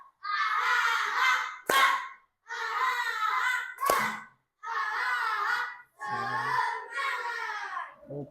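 A class of children performs the 'tepuk semangat' rhythmic clapping ice-breaker during a school lesson, chanting together in loud bursts punctuated by a couple of sharp single claps.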